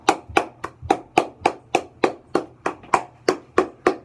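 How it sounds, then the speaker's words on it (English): Slow, steady clapping, about a dozen evenly spaced sharp claps, close and distinct, like a small group or single person clapping in rhythm. "give them a clap, y'all."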